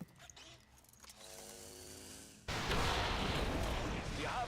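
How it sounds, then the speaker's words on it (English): A purifier explodes in a video game: quieter mechanical clatter and tones give way midway to a sudden loud blast that holds as a dense, roaring rumble to the end. "We got the explosion!"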